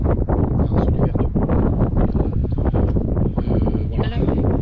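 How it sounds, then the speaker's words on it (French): Offshore wind blows over a sailboat anchored in a sheltered spot near Martigues, a steady close rushing buffet with microphone wind noise throughout, while someone talks over it. "Le vent souffle de terre, donc c'est plutôt calme"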